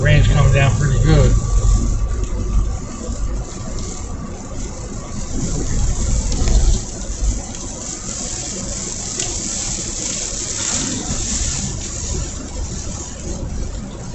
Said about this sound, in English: The rain's coming down pretty good.